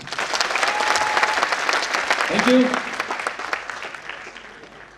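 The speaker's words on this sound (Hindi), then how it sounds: "मैं चाहूंगा कि अपने गुरु के लिए जोरदार तालियां" Enthusiastic audience applause at a Safe Shop business recognition event, dense clapping building and peaking mid-way before tapering off, with a voice briefly speaking over it.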